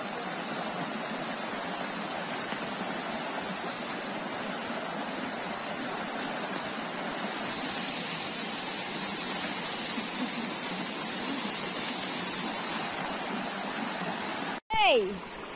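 Buruwisan Falls in Siniloan, Laguna: a steady, broad rush of falling water, constant and fairly strong throughout, cut off by a brief sharp knock near the end.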